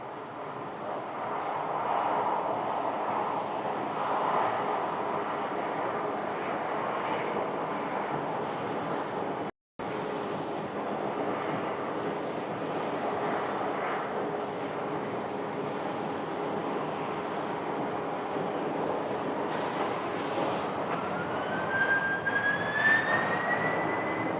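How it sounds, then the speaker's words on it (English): FedEx Boeing 767 freighter jet on runway 25 right at Phoenix, a steady, loud turbine roar held for the whole stretch, with a brief dropout partway and a rising whine near the end. "Runway 25 right, FedEx support. The Boeing 767 freighter."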